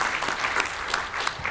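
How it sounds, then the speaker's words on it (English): Applause from an audience at a BMANA business meeting in Dallas, steady clapping throughout, moderately loud, with a few sharper claps standing out and no talk over it. "Let's applause for her again."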